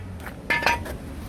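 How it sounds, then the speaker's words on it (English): Metal car jack stands handled and set down during front and rear brake work on a Buick Enclave, giving a couple of short metallic clanks and clinks over a low background hum. "drop these jack stands"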